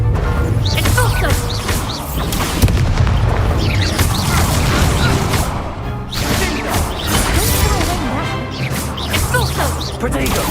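Repeated Expulso explosion spells blast during combat in Hogwarts Legacy, heavy booms and crashes piling up continuously with whooshes, loud and dense throughout, with a voice talking over the action.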